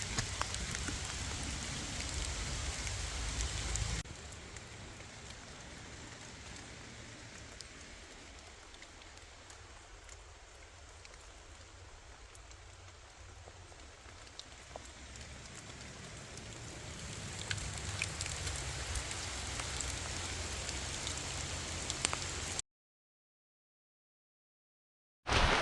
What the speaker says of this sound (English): Lucky since it's raining.